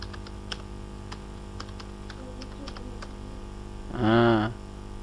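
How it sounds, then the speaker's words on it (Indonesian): Typing on a computer keyboard: sparse, uneven clicks over a steady mains hum, followed near the end by a brief tonal sound. "Kita ketik lagi."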